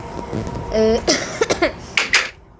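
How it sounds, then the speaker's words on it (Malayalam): A few short, sharp coughs from one nearby person, spaced out over a couple of seconds against a quiet room. "ചെറിയൊരു ചുമയാണ്"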